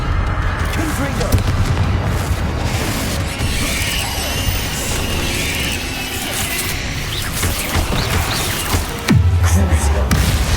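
Confringo fire-spell blasts and combat impacts in Hogwarts Legacy: loud, continuous booms and crashes with a heavy low thud near the end, while a person speaks over the action.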